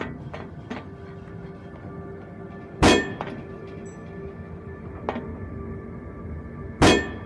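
Two sharp, loud shotgun blasts in the game Dark Matter, striking boxes with clanging metallic impacts, separated by several seconds, plus a few fainter thunks over a steady low hum.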